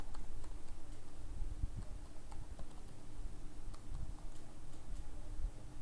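Keys clatter on a computer keyboard while a program is entered at a command line, a steady run of quiet, close taps and clicks over a soft hum.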